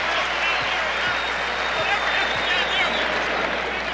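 A dense, steady roar of crowd noise fills a basketball arena during a 1992 Celtics home game against the Blazers, with scattered claps and low thumps beneath a continuous wash of cheering.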